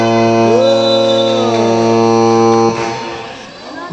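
A long, loud, steady buzzer sounds for a shot clock violation during a Kaia Basketball League game in Naic, Cavite, holding for nearly three seconds over faint crowd noise before cutting off.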